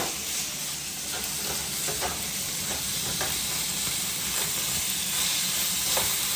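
Ground beef frying in a pan after sautéing, with a steady, close hiss and sizzle and occasional scrapes of a spoon stirring it, without talk.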